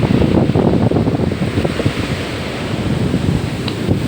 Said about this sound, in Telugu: చూడండి అక్కడ నుంచి అలలు ఎంత ఫాస్ట్గా వస్తున్నాయంటే